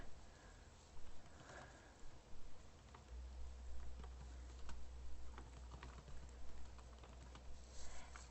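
Quiet, irregular keyboard clicks tapping away faintly over a low background hum, with scattered keystrokes and no voices.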